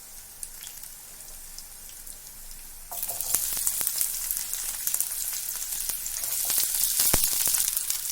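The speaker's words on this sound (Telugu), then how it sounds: "ఆనియన్ వేసాక ఆనియన్ని కొద్దిగా ఫ్రై చేసుకుందాం" Long-sliced onion with chopped green chillies sizzles in a pan while tomato egg gravy is cooked. The frying is soft at first, then jumps to a loud, steady crackle with spitting pops partway through, with no talk.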